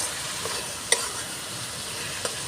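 Two chopped tomatoes hit hot oil in a pan for jackfruit kalia and are stirred. A continuous hiss of sizzling carries a few sharp clicks from the spoon, one of them stronger near the first second.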